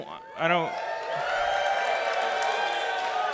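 A live improv festival audience in Chicago cheers and whoops, a broad sustained roar of voices following a brief spoken exclamation.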